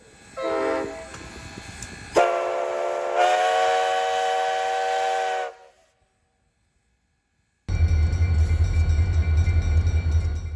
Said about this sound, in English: work train number 1 heads out with 503 to do some maintenance on some of the track between Clewiston and Moorhaven